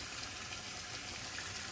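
Tap water runs in a steady, faint hiss over venison sausage casings at a sink, continuous and even without any pauses, and nobody speaks.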